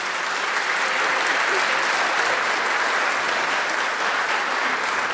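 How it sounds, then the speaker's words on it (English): A large holiday concert audience applauds the Hillyer Festival Orchestra, a dense, steady wash of clapping that stays loud and even throughout without fading. "If you don't mind giving them a nice round of applause."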